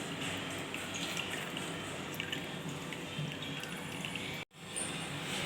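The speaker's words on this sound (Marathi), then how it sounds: "थंड पाण्याने हे जे चिलका आहे तो धुवून घ्यायचा आहे" Chhena curd being rinsed with cold water, a soft continuous trickle and drip of running water, quiet and close, with a brief break near the end before it resumes.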